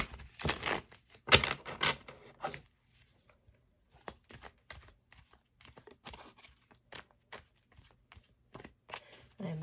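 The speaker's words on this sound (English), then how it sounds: "I'm shuffling the cards" A deck of cards is shuffled close by in quiet surroundings, with quick riffling bursts and scattered soft flicks and taps in an irregular rhythm.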